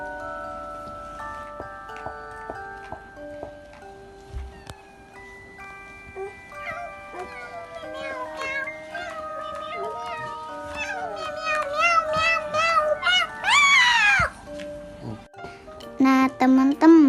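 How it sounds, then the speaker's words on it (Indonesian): Electronic cat meows from a novelty LED character hat arrive in a short burst near the end, following plinking toy melody tones, fairly close and clear. "Nah, kalau ini kucing Mary, lucu banget ya."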